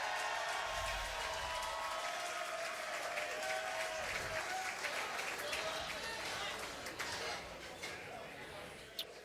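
An audience at a PBA bowling playoff bursts into sustained applause and scattered cheers, a thick clapping texture that fades slowly, with a voice speaking over it.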